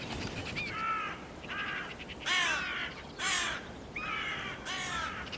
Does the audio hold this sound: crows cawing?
yes